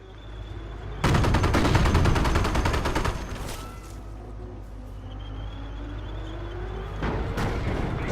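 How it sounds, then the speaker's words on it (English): Anti-tank guns fire on a Sherman tank in the World War II strategy game Company of Heroes: a loud dense two-second burst of rapid gunfire, then quieter battle rumble and a second shorter burst near the end. "Double AT gun hits, tweaking this Sherman pretty low."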